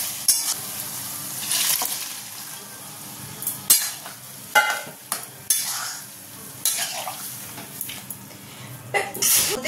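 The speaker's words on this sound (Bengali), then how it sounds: "এবার এর মধ্যে দিয়ে দেবো আমি চানা, সিদ্ধ করে রাখা চানাটা" Boiled chickpeas go into a well-fried, oil-releasing masala and get stirred, giving a sizzling fry with irregular loud scraping and clattering stirs in the pan, close and without speech.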